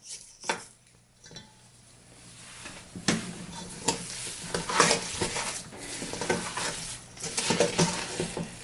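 A spatula stirs and scrapes thick cake batter for meteor cakes in a bowl, giving wet, irregular scraping and slapping strokes with occasional clinks against the dish, close and fairly loud.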